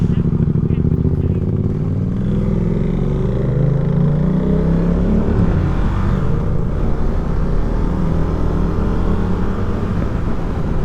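A KTM 390 Duke motorcycle rides on a country road with a continuous engine drone and wind rush, pitch shifting as it accelerates, while a rider talks over it.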